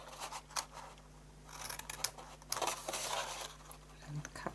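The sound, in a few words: cutting notches in cardstock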